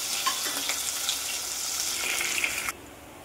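Cornflakes and crushed garlic cloves fry in very hot oil, giving a loud, dense sizzle with small crackles throughout that cuts off abruptly near the end, with no voices.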